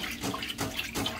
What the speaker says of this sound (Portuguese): Primeiro, vamos tirar essa água aos poucos.